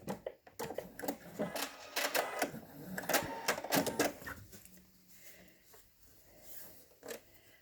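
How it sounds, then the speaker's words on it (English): A sewing machine stitches a half-inch seam through fabric squares for a lap pad, backstitching at both ends; close, irregular bursts of mechanical clatter with short pauses between runs. "We're going to stitch a 1/2 inch seam, back stitching on both ends"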